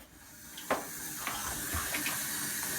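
Tap water runs steadily for hand washing, a faint continuous hiss with a few soft splashes and knocks.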